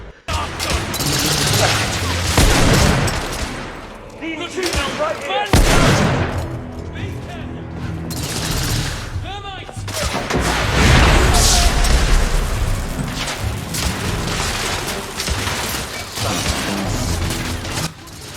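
Loud, dense gunfire and booming explosions from the video game The Order: 1886 run almost without a break, with bursts of rapid shots and heavy impacts. Voices come through now and then under the combat.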